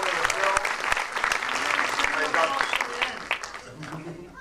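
A theater audience at a live storytelling event breaks into continuous applause, dense overlapping claps filling the room at moderate volume with a few louder hand strikes near the front.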